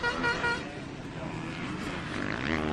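450cc motocross bike ridden hard through corners during pro qualifying at Pala, engine revving and shifting pitch at a distance, with commentary voices over it.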